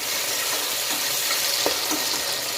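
Chopped onion and curry leaves sauté in a pan for a soya-chunk pulao, making a dense, even sizzle close by, with faint stirring scrapes and no voices.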